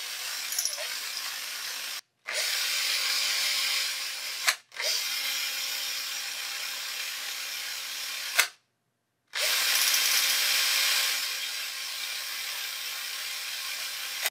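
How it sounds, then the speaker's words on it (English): A power drill running in reverse whirs steadily in long bursts, stopping briefly between runs, with a faint ratcheting rattle under the motor. "Got a drill here on reverse"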